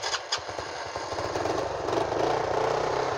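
A 50cc motorcycle sputters as its small engine catches, then settles into a fast, rhythmic putter at idle, moderately close and fairly quiet.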